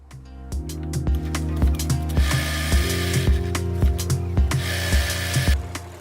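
A sewing machine stitches up the sides of a handbag made from silica gel layers, a steady rhythmic mechanical clatter of needle strokes running continuously and fairly close.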